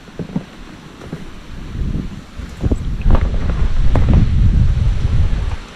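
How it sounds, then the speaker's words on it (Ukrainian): Strong gusty wind buffets the microphone with low rumbling bursts, over faint lapping water at a reedy pond, growing louder midway. "Вітер просто неможливо, аж на нерви діє."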